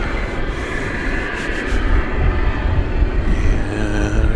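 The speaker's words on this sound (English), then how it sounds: "I've got a Dreamliner coming in, but it's a domestic Dreamliner, American Flight 1115." An American Airlines Boeing 787 Dreamliner coming in to land at Dallas Fort Worth airport at night, heard as a loud continuous low engine roar with broadband rumble, steady throughout.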